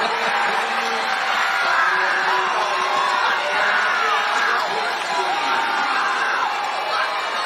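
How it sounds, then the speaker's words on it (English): Lively volleyball crowd of traveling Santa Ana fans cheering and whooping continuously after a point ties the game, a dense, loud roar of voices filling the gym throughout. "this crowd that traveled up from Santa Ana is alive"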